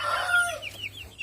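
A sick chick with fluffed-up feathers, gasping and listless, gives a run of thin, high peeping chirps, close and fairly clear, a few short calls trailing off one after another.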